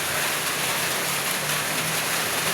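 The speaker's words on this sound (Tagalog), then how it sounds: "Hangtod karon wala pa gani mondang ang ulan." Heavy rain pours down steadily during a night flood, a dense continuous hiss of falling water with no voices, holding an even level throughout.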